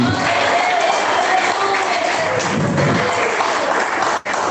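A church congregation claps in praise during an evangelical sermon, a dense, steady wash of many hands close and loud for several seconds, with faint crowd murmur beneath and a brief dip near the end.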